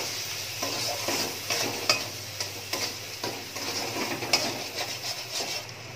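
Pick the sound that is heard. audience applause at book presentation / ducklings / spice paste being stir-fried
spice paste being stir-fried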